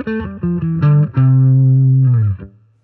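Electric guitar running up a major scale in the first position, a series of distinct picked notes climbing quickly and ending on a long sustained tone, close and clean with a slight effect sheen.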